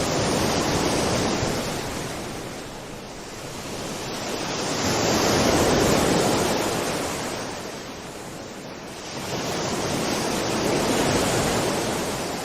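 Ocean waves roll in and crash in slow, regular surges, the broad roar swelling and ebbing about every five seconds, loud and close with no other sounds.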